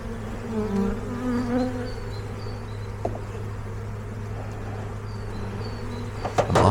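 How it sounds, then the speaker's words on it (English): Honeybees buzz in a dense, continuous drone as they are shaken off frames into a hive outdoors, with a few clunks of wooden frames toward the end. "I'm just gonna shake these last few bees from the remaining frames directly into the hive."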